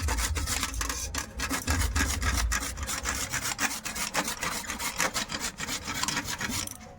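Carrot rubbed against a hand grater for momos, a rapid run of rasping, scraping strokes in quick rhythm, close and fairly loud with no talking.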